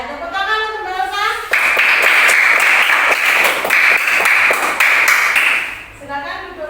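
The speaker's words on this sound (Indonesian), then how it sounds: "ya, tepuk tangan untuk Mbak Elsa." A classroom bursts into dense, loud applause after a group presentation on Majapahit-era relics, clapping steadily for about four seconds before fading, with a teacher's voice speaking before and after.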